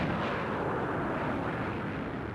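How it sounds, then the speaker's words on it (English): A jet breaking the sound barrier produces a sonic boom, here a dense, continuous, fairly faint low rumbling roar with no distinct attack, heard alone. "The world had heard its first sonic boom"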